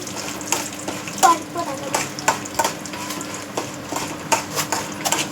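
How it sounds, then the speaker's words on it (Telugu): Dried red chilies frying in hot oil in a pan, a steady close sizzle with bursts of sharper crackling pops scattered throughout, and no talking. "ఇవి వేగేంత వరకు ఉండి ఇందులో లైట్గా కొద్దిగా ఎండుమిర్చి వేద్దాం"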